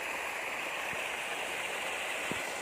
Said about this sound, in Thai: เป็นน้ำเข้าสระ